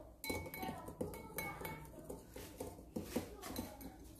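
A utensil clinks against a bowl as egg and milk are whisked together in a kitchen, in quick irregular taps that stay faint under a voice as she talks.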